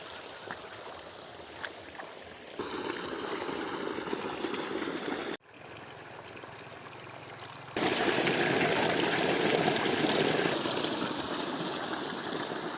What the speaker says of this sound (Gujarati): પાણી ચાલુ કરી દીધું છે આપણે.